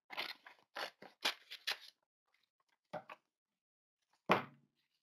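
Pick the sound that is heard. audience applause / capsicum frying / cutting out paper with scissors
cutting out paper with scissors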